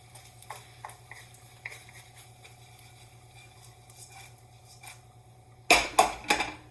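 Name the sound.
noodles heating and stirring in a hot pan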